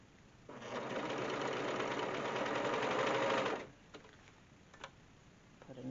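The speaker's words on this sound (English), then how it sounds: "I'm going to sew on the front." A sewing machine stitches a ribbon onto a fabric face mask in a steady, close whirring run of about three seconds, then stops, followed by a few faint clicks and handling noises.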